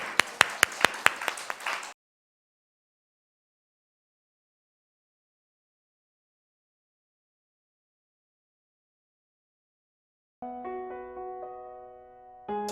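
A church congregation claps in a quick, even rhythm of about seven sharp claps over two seconds. Silence follows, then tonal music comes in near the end.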